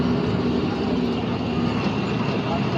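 A continuous broadband rumble and roar fills the cabin during a light rail LRT ride, loud and steady throughout.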